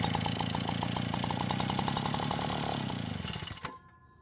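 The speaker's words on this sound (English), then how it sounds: "the engine started and ran at idle speed for several seconds" Small carbureted engine running at idle with a fast, even chugging pulse, loud and close, then slowing and cutting out abruptly near the end.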